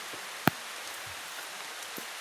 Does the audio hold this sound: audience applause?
no